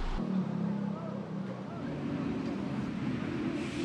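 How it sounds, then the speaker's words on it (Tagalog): Heavy, slow-moving traffic on Araneta Avenue in Quezon City after flooding, a steady low engine drone and rumble of vehicles close by, continuous throughout. "mabigat pa rin ang daloy ng mga sasakyan o yung mabagal yung usad ng mga sasakyan"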